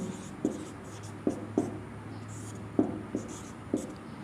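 Pen strokes and taps on paper while working a coordinate geometry problem, a handful of sharp close ticks spaced irregularly over a low steady hum, with a faint voice at times.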